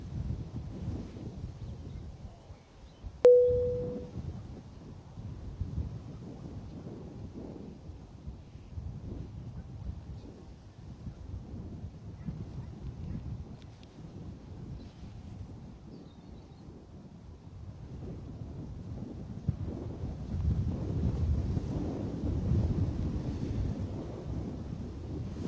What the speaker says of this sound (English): Wind speed is 13 knots here at the moment, gusting though up to over 20.